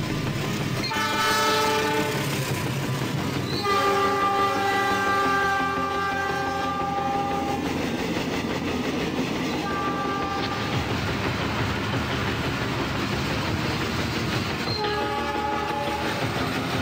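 A train rumbles past in Trainz Simulator 2009 with clattering wheels while a loud horn blasts several times, long sustained tones separated by short gaps.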